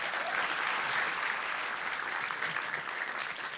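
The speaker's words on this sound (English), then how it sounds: "another round of applause, please, for Matthew, Claire, and Michael with Graffinity" An audience at a startup founders' demo day breaks into sustained applause, a dense, even clatter of many hands that carries on without a break, with no talk over it.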